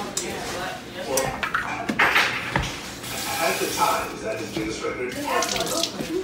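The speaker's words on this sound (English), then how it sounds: "I put a little bit of water in here." Water runs from a tap into a cooking pot while meatloaf, potatoes and green beans are prepared, a close splashing stream with clinks of metal cookware and a voice talking over it.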